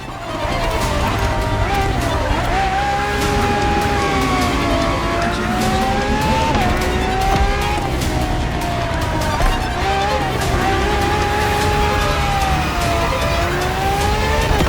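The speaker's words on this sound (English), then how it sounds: "for this second lap, you'll be driving the FXXK" Ferrari FXXK supercar in The Crew Motorfest, with a loud, continuous engine drone whose pitch rises and falls through gear changes across the lap, sitting over steady background music or noise, with no pauses.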